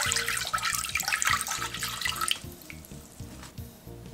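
Dashi stock is poured into a pressure cooker, a close, gushing splash of liquid that fades after a couple of seconds into lighter trickling and a few drips.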